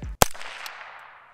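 A single .22 rifle shot fired through a Fleshlight fitted over the muzzle, one sharp, loud, close crack followed by a short fading ring. No one is talking.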